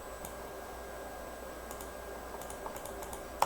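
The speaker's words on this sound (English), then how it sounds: "so I'm clicking the mouse and doesn't allow me" Light computer clicks and taps come in a scattered sequence, quiet and close, over faint room hum with no talk.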